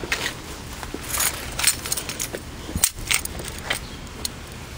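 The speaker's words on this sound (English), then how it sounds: "And I have my keys" Car keys jangling in a hand beside a newly bought red car with new rims and an aftermarket-looking exhaust: a loose, bright metallic rattle of clinking keys that rises and falls over nearly five seconds, close by.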